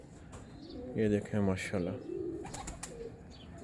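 Pigeons coo nearby in soft, throaty, rolling bursts while someone speaks over them.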